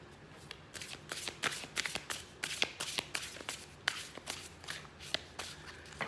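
Mystic Martian oracle cards are shuffled by hand, a quiet run of soft riffling bursts repeating in an uneven rhythm close by.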